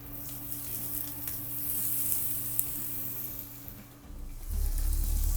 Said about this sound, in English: So into a medium high heat pan, we're going to throw our pat of butter